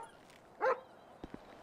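A dog in a GTA roleplay video game gives one short, mid-distance bark, followed by a couple of faint soft knocks against low background noise.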